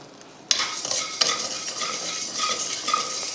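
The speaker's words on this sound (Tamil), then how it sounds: "அடுத்ததாக கல்லுப்பு எடுத்திருக்கேன் ஒரு இருபத்தஞ்சி கிராம் அளவுக்கு எடுத்திருக்கேன் அதையும் போட்டு வறுத்தரலாம்" Rock salt dry-roasts in a pan beside lentils and spices for a mutton masala powder, giving a loud gritty rattle and scrape of stirring that starts abruptly and keeps going with occasional sharper clinks.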